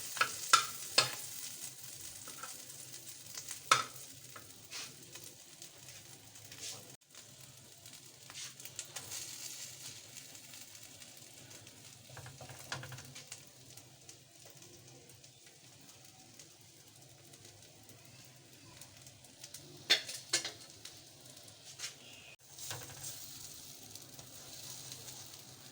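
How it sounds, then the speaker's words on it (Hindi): Chicken liver frying in ghee for a kaleji burger: a quiet, continuous sizzle broken by scraping stirs and a few sharper crackles and pops, with no talking. "इस तरह मैं भून रही हूँ घी के अंदर"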